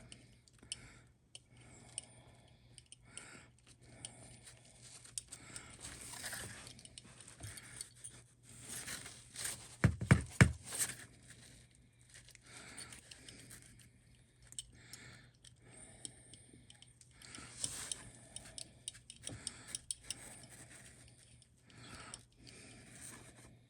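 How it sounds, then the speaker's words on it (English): A small tool turns the PTFE packing screw inside an Iwata Eclipse airbrush, making faint scattered metallic clicks and ticks over a quiet background, with a brief louder cluster of clicks midway. "I'm going to go in there all the way in and try to unscrew that packing"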